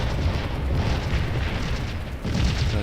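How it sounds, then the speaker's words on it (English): Massed Civil War cannon fire in the Scourge of War battle at McPherson's Ridge, a steady rolling rumble of distant booms blending into a continuous roar, with a brief dip before it swells again. "and see mass cannon hitting them"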